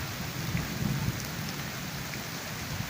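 Heavy rain pours steadily in an outdoor downpour, a dense, even hiss with a low rumble of thunder underneath, continuous and close.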